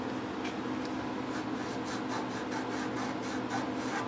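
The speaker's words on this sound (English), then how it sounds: "Try and rub it again" A metal part from a Ford F100 truck is rubbed to bring out a stamped date code, giving a steady close scraping with repeated rasping strokes and no talk.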